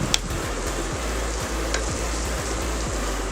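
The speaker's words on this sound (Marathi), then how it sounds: "फुल गॅसवरतीच आपल्याला हे भाज्या सॉटे करून घ्यायचे आहेत।" Vegetables for cheese Maggi sauté over a full gas flame, giving a steady close sizzle with soft, rhythmic stirring or scraping pulses underneath.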